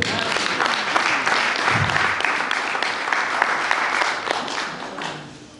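A church congregation claps and cheers loudly and continuously, a thick roar of hands with scattered voices rising through it, the volume swelling and dipping slightly throughout.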